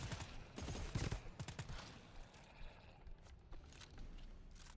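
Machine gun fire in the sci-fi video game GTFO, rapid faint bursts of shots in quick clusters, strongest early then thinning into scattered pops over low background noise.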